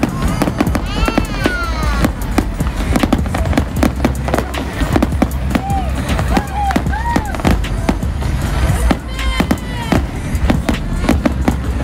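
Fireworks show bursting overhead, a rapid series of loud sharp cracks and pops with whistling rises, going on continuously with excited voices talking and shouting among the explosions.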